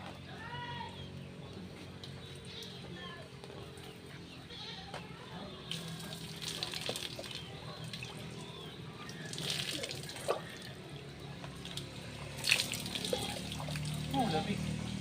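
Rain water pouring steadily over a person bathing outdoors in the rain, a continuous splashing wash with occasional sharper splats and voices talking through it.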